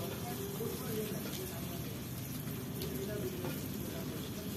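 Green chillies fry for a tomato khichdi in a pan, giving off a steady, soft, continuous sizzle with faint crackles and no voice over it.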